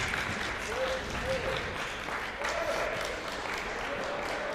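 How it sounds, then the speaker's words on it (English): Applause from a crowd at a college table tennis nationals singles event patters steadily in the background while a commentator talks over it throughout. "We've got a crowd, we've got some applause in the background on court 2 here."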